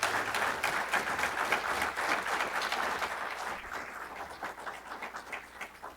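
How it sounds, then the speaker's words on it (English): Audience applause for award recipients at the INROADS Founder's Day 2014 ceremony: a steady wash of many hands clapping, fairly loud and sustained, tapering slightly toward the end with no talk over it. "ask the audience to give another round of applause for our award recipients"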